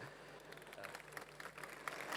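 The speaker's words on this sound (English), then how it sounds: "She gets a round of applause, you all do." An audience at a welcome session claps for the speaker's wife, steady dense applause at a moderate distance, soft and continuous, with some voices mixed in.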